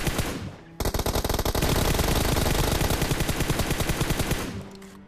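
Rapid automatic gunfire in the PUBG Mobile video game, one long loud burst of closely spaced shots that fades out near the end.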